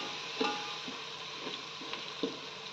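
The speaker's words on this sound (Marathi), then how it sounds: "एक 5 मिनिट मसाला आपल्याला भाजून घ्यायचा आहे" Ground masala paste roasts in hot tempering oil for a spicy amti, giving a low steady sizzle with a few soft taps of the spoon.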